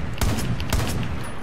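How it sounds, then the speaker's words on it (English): Sniper rifle fire in the Far Cry 5 video game: two sharp, loud reports about half a second apart, each with a short rumbling tail over steady background game noise. "I wonder if the sniper would actually take down the statue."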